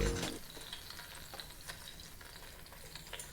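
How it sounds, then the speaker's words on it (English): Onions, chilies and tomatoes frying in oil in the Venba cooking game, a steady soft sizzle with faint crackles and light stirring, close and alone with no talk. "You want all of them to fry in the oil nicely"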